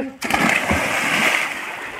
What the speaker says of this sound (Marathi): अशी उडी हाण बरं भागेश.